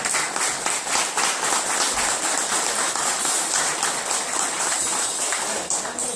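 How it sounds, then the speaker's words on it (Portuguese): Dense, steady applause from an audience at a Botafogo gathering honouring former players, many hands clapping continuously at close range with no speech over it. "estenda esse aplauso"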